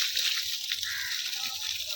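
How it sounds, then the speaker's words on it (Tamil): Water gushes forcefully from a spring at the Ramakiri Kala Bairavar temple in Andhra Pradesh, a steady close hiss of rushing, splashing flow with no pauses. "எவ்வளவு ஃபோர்ஸா இந்த தண்ணி வந்து எவ்வளவு கிளீனா செம்மையா இருக்கு."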